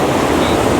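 Rushing whitewater surges steadily where kayakers come through a turn on a fast river course, a dense broadband wash with no distinct individual splashes, loud and close.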